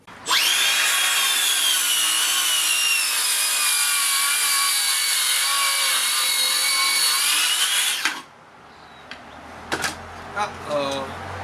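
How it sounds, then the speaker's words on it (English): A Makita 40V circular saw makes a 45-degree bevel cut through 45 mm framing timber, a loud, steady high whine lasting about eight seconds that ends abruptly, followed by a few quiet clicks and knocks. "this saw, with this saw blade on it, can do a bevel cut to 46 millimeters"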